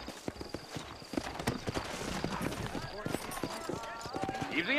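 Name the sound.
horses clip-clopping in video game Red Dead Redemption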